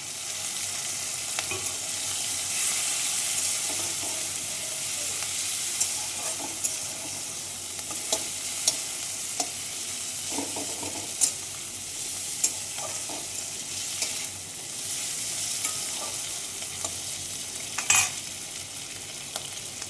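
Chopped garlic, ginger and prawns fry in oil for a pumpkin greens dish. A steady close sizzle runs throughout, punctuated by frequent spatula clicks and scrapes as the pan is stirred. No one speaks.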